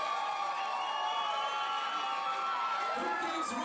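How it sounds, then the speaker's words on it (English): Fight-event crowd at a grappling match cheering in support of a fighter, a steady wash of distant voices and shouts with a swell near the end, heard under a commentator's talk. "Definitely hear some crowd fan support for Mark Strickland, the Predator."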